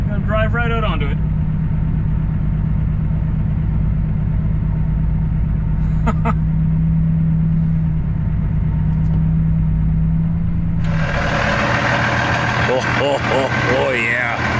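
A truck engine idles and rumbles steadily as the rig pulls out onto a salted surface, a low continuous drone throughout with a brighter broadband rise near the end; voices are faint in the background.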